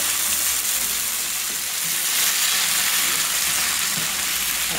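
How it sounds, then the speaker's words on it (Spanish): Chopped tomato and chili frying in a pan for pork in morita chili sauce, a loud continuous close sizzle with no pauses and no voices. "Y continuamos en freír el jitomate, el chile."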